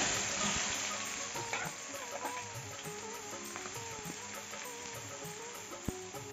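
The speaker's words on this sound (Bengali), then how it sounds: "এখন পেঁয়াজগুলি ভেজে নেব।" Sliced onions frying in hot oil, left over from frying potatoes, for chicken biryani: a steady, even sizzle and hiss with a few faint clicks and scrapes of stirring, no talking.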